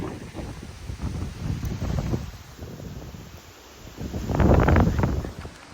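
Strong gusts buffet the microphone in a continuous roar, rising into a louder blast toward the end, with no voices.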